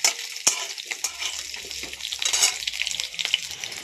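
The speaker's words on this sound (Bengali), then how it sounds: "এবার আমি তেলের মধ্যে দিয়ে আলুটা ভেজে নেব" Whole potatoes frying in oil in a pan, a bright, continuous close sizzle with a sharp utensil knock at the start and a few light scrapes.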